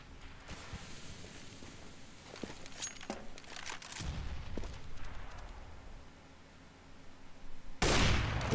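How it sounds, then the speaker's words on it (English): Gunfire in a professional Counter-Strike match on the Cobblestone map, scattered rifle shots and short bursts at varying distances, ending in a loud close burst, with no speech. "Pasha misses a shot that he probably should have landed."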